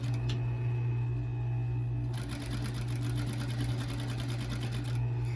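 A sewing machine stitches a fabric face mask with a steady mechanical hum, then breaks into a fast, even run of needle strokes partway through, close and fairly loud.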